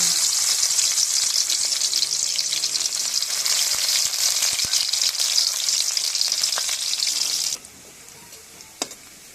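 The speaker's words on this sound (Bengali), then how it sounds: "বন্ধুরা পেঁয়াজটা লাল লাল করে ভাজা হয়ে গেছে" Onions frying in hot oil for biryani give a loud, continuous bright sizzle for most of the clip, then drop abruptly to a softer hiss with a few small clinks near the end.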